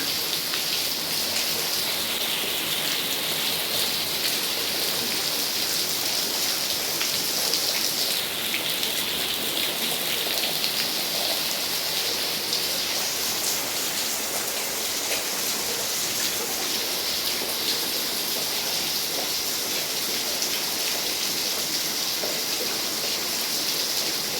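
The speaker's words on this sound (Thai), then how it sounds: "ฝนตกก็หนาวสิจ๊ะ" Steady rain falling on a surface at night, a dense continuous patter holding the same level throughout, close and fairly loud with no voices.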